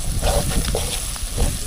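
Green chilli, onion and tomato frying together in a pan, with a steady close sizzle and hiss and a few soft stirring scrapes on top.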